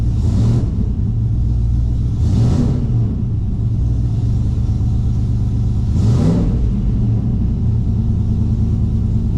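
A Gen 3 V8 engine holds a steady low rumble at about 10% throttle, with three brief rising swells as the throttle is cracked open, running loud and close with no talk.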